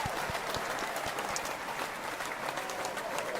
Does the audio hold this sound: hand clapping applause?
yes